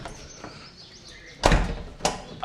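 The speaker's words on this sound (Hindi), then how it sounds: "ये जो आती है निसान के दरवाजे की आवाज, उसकी आवाज अपनी है" A Nissan car's door shuts with two solid thunks about half a second apart, close and loud, over faint background ambience with light chirps.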